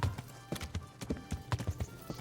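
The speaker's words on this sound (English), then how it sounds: "Just a man on a horse." Hooves clip-clop in a quick, uneven trot in the video game Kingdom Come: Deliverance, sharp knocks repeating close by with a faint low rumble underneath.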